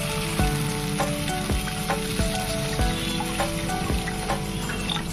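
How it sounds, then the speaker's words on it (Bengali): Water tipped into hot, sizzling masala for a rohu fish curry gives a steady loud fry-hiss, with a few knocking stirs of a spoon against the pan. "এই দেখুন এখানে আমি 1 কাপ জল অ্যাড করলাম"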